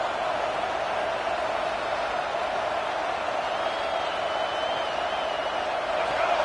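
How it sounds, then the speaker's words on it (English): A steady roar from a large crowd fills the space, a dense, continuous wash of cheering and noise with no pauses. "this crowd is fired up. Listen to this noise here."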